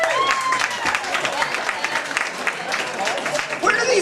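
Comedy show audience clapping in scattered fashion, the applause mixed with laughter and a few voices calling out, rising and fading over a few seconds.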